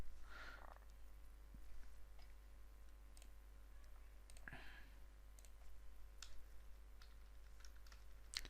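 Keys tapped on a computer keyboard in soft, irregular clicks, quiet and fairly close, with short bursts of typing spread across a steady low hum and no talking.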